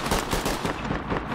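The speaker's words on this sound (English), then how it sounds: "Gunfire." Rapid bursts of gunfire in the tactical shooter Ready Or Not, a dense crackling volley of close shots rattling without pause.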